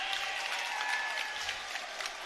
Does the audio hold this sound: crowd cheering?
yes